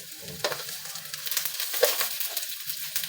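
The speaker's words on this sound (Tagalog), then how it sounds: "Palod natin ang bawang at ah, luya" Garlic and ginger sauté in hot oil, a close, bright crackling sizzle with scattered pops and a few scraping stirs.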